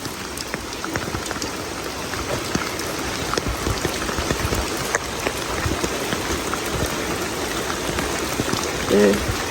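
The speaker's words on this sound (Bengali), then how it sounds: "এই অ টাইমে বৃষ্টি আসলে ক্ষতি হয়" Steady rain pours down on a rural homestead, drumming densely and continuously on surfaces close by, with scattered drip impacts and a brief voice near the end.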